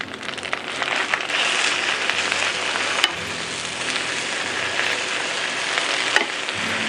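Spinach wilting in butter in a hot pan gives a steady, close sizzle and crackle throughout, with a few sharp pops and a brief stir clatter near the middle.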